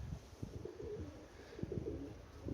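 Low, soft cooing of domestic pigeons on a roof, Orlik and Mikołajewski breeds, repeating in short phrases, fairly close but quiet, with faint outdoor background.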